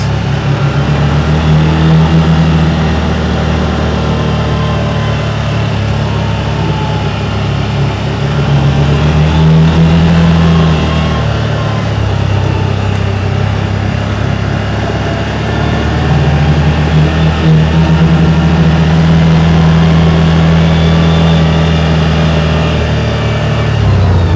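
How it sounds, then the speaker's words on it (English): A 2023 CFMoto Zforce 950 side-by-side runs in low range at about 20 mph, its engine a steady close drone that swells twice in RPM, with no talk over it. "A little more RPM noise."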